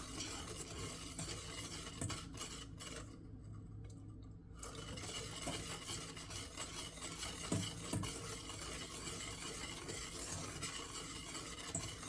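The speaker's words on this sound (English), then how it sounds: "Add a little bit more, get it mixed in, and keep going until it's all mixed and there are no lumps" A spoon stirring milk into banana split pudding mix in a bowl, with continuous soft scraping and swishing and a few faint clinks, quiet and close, no voices.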